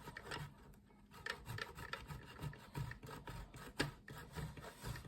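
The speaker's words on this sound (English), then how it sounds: "when I grate out the cheese, I've just got an ordinary grater, and I'm using these small holes" Cheese rubbed over the small holes of an ordinary box grater, making steady rasping scrapes in a quick back-and-forth rhythm, close and moderately loud throughout.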